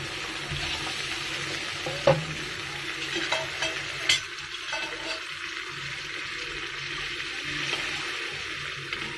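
Hilsa fish fries in a pan with a steady sizzling hiss, close and moderate in level, broken by a few sharp clatters and scrapes of stirring.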